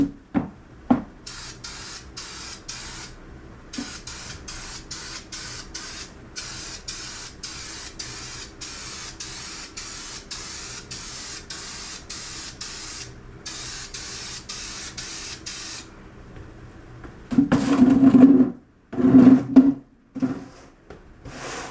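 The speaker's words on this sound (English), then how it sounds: "The spray radius of this nozzle is incredible and made light work of this hood." Turbo bedliner spray can sprayed onto a Jeep hood in long steady hissing bursts separated by short pauses, close and continuous, followed near the end by a few louder, rougher sputtering sprays.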